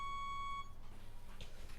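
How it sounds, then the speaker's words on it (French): A mobile phone ringing in a pocket on a street in Avignon, a short electronic beeping tone that stops after a moment and is followed by faint background noise. "votre téléphone il sonne dans votre poche"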